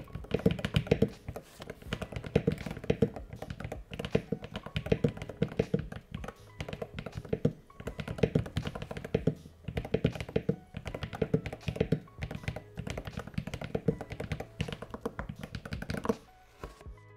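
Fast, continuous typing on a Luminkey Magger 68 gaming keyboard with magnetic switches and lubed stabilizers, a dense close-up patter of deep, thocky keystrokes running steadily throughout with no voices.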